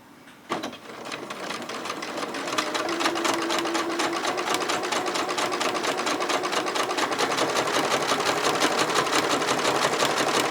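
Sewing machine stitching a quarter-inch quilt seam, a close steady rapid whirring chatter that starts with a clunk and runs continuously without talk.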